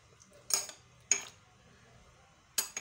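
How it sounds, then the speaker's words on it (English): A spoon knocks against a bowl while onions, lemon and salt are stirred together, giving three sharp clinks spaced apart over a quiet background. "You stir it together, the onions, the lemon, and the salt."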